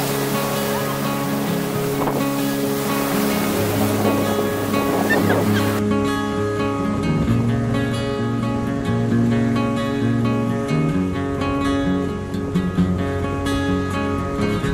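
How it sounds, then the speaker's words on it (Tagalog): Ocean waves wash onto Limliwa Beach in San Felipe, Zambales, a continuous surf roar blended with music playing over it. "Sa alon naman, hindi naman siya ganun kataasan."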